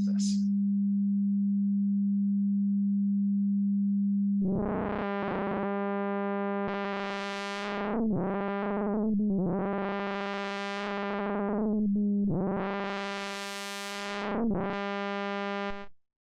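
A synthesized oscillator waveform in Max runs through a filter: a steady pure hum, then bright buzzy tones swell and fade in several sweeping bursts, loud and alone.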